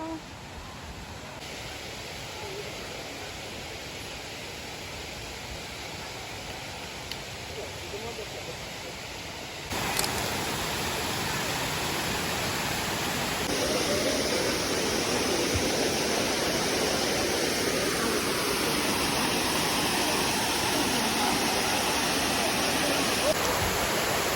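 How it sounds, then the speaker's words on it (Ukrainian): Steady rushing water roars continuously at Dzhuryn Waterfall in Ukraine, growing louder partway through as if drawing nearer to the falls. "Вже чути, як шумить водичка."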